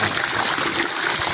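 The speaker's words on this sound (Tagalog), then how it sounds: "Improvise na shower." Water gushes loudly and continuously from an improvised shower rigged over a backyard pool, a dense unbroken splashing rush close by.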